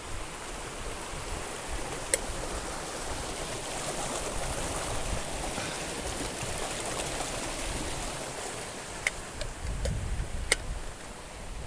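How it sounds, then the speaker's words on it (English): A glacial mountain waterfall in Iceland rushes in a steady, broad wash of falling water, with a few faint clicks and taps over the constant roar and no talking. "I'm gonna get some fresh glacial mountain water from this waterfall."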